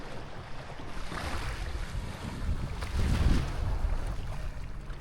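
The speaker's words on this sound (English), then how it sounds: "so that you can hear the waves and enjoy the walk as if you were here" Ocean waves wash onto the beach at Playa del Carmen, a soft continuous surf hiss that swells to a louder rush partway through, mixed with light wind buffeting.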